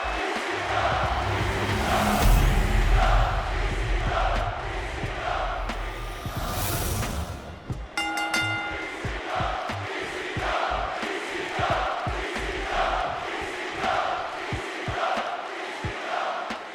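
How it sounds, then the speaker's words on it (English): A wrestling arena crowd in WWE 2K22 chants in a steady rhythm during an ECW World Championship match, the roar loud and dense throughout, with a brief bell-like clang partway through. "you'll get to hear some very cool and classic ECW crowd chants"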